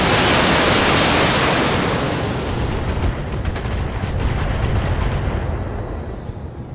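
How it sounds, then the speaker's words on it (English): A BattleTech mech fires a full weapon salvo: a loud, dense blast of booming noise that starts at full force and slowly tails off into a rumbling, crackling decay over several seconds, with no voices. "Firing a full salvo."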